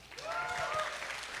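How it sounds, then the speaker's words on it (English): A small audience at a tech meetup gives a short, fairly quiet burst of applause for the speaker Andrew, with a voice faintly heard within it. "Huge round of applause for Andrew."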